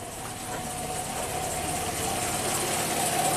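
A 1997 Kia Sportage 4x4 engine idles steadily with a surging idle fault, a continuous close, even drone that holds level and swells slightly toward the end, with no voices over it.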